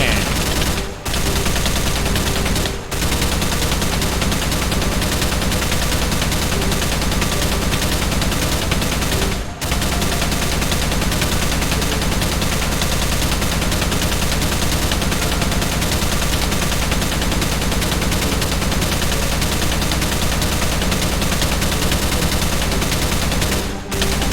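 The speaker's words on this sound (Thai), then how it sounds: "วันนี้พระเจ้าก็ได้เตรียมปืนสุดโหดไว้แล้ว นั่นก็คือ ปืน LMG นั่นเอง" A light machine gun in a video game fires in long, relentless automatic bursts for the whole stretch, dense and loud, with only a few brief gaps between volleys.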